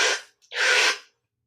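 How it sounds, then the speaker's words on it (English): Breath moves through the nose and mouth during a yoga breathing exercise: a short airy inhale, a brief pause, then a longer, soft, breathy exhale, close and alone. "And slowly exhale."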